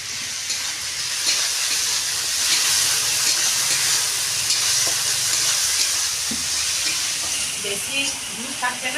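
Chopped tomato fries in hot oil in a home kitchen, giving off a loud, continuous sizzle and hiss with a few light stirring clinks near the end.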